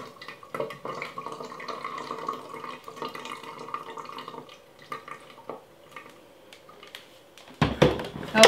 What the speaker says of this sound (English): Now I'm gonna add cold water.